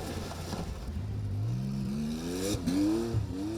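A rough-running Ford Escort rally car on the Classic Safari Rally in Africa, its engine revving up through rising gears, loud and close, with a brief shift break midway.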